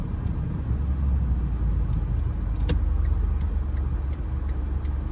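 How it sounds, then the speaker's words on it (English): Cabin rumble from a car rolling slowly through a parking lot in downtown Valdosta, Georgia, a steady low drone with a faint ticking, no talking. "We're actually driving through a parking lot."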